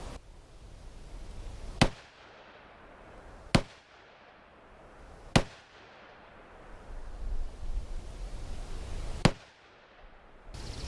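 Four sharp, loud gunshots from a Ruger Security Six revolver with a 4-inch barrel, firing .357 Magnum 125 grain jacketed hollow points, spaced irregularly a couple of seconds apart outdoors, with no talking.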